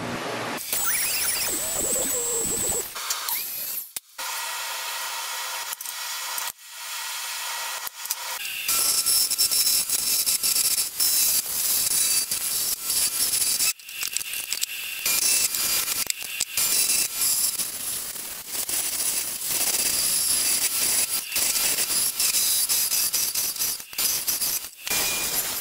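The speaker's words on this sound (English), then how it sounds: "I'm using this turned upside down like a router table" Upside-down router used like a router table, shaping wood for a circular rod holder: bursts of high whining cutting noise with gaps and a quieter lead-in, close and loud, no voices.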